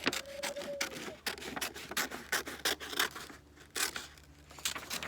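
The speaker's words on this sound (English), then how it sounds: "So I got my scissors." Scissors cutting folded paper for a craft flower: a quick series of close, crisp snips and rustling scrapes in uneven rhythm, fairly quiet, with no talking.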